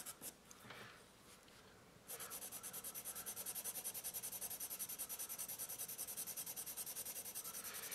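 A Cretacolor oil charcoal pencil scrapes across paper in quick, even back-and-forth strokes, close and scratchy, after a short stretch of lighter rubbing.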